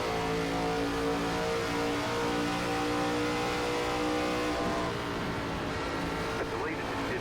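An ARCA race car at Darlington in the iRacing simulator, its engine droning loud and steady as the driver stays on the throttle, with a slight drop in pitch near the end and no talk over it.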